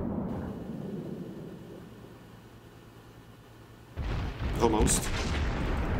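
A T6 Aoba cruiser's guns fire a long-range shot in the World of Warships video game, a sudden heavy boom that breaks in after a low ambient rumble, with a brief spoken word near the end.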